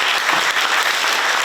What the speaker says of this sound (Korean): 일단 박수부터.